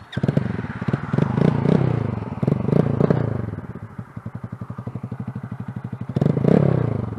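A Wolf Striker 125cc motorcycle with a newly replaced carburetor runs close by, loud and continuous, its engine rising and falling with revs and a steady idle pulse in the middle.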